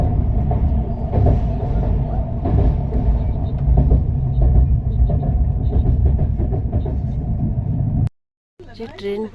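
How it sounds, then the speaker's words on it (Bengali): A train travelling from Jharkhand toward Odisha near Ranchi station gives a loud, steady rumble from inside a carriage, which cuts off abruptly before a brief voice is heard. "যে ট্রেন এখন রাঁচি পৌঁছে গেছে, রাঁচি স্টেশন"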